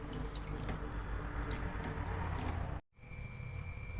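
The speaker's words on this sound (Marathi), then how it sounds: "आता हे स्वच्छ धुवून घेते पाण्याने" Broken wheat (dalia) washed by hand in water in a bowl: soft wet sloshing and squishing sounds, fairly quiet and close, with a brief cut to silence near the end before the watery sounds resume.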